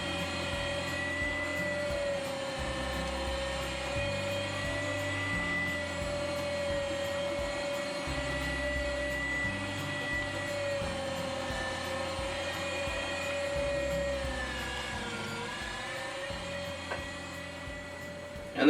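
An electric meat grinder runs steadily while grinding pork and black bear meat for pepperoni, a constant motor whine and hum with chunky low churning as meat feeds through, fairly close and without voices.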